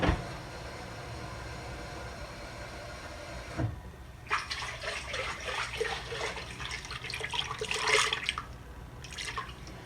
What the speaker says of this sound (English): Let me add a little bit more water so I can take all the excess off.